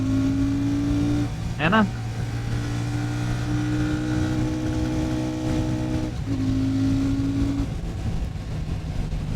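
A Royal Enfield Shotgun 650 twin-cylinder motorcycle on a road ride, its engine droning steadily with rising revs while accelerating, loud and close with wind, and a voice briefly over it.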